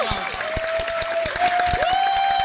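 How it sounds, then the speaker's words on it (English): A crowd at a 1v1 tournament grand final claps steadily with scattered whoops and cheers, dense and lively throughout, while a voice with a sustained tone carries over the top. "Please, your biggest cheers."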